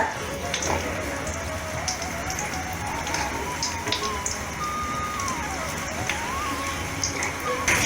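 Mustard flower fritters frying slowly in hot oil give a steady, dense crackle and hiss throughout, with faint voices in the background.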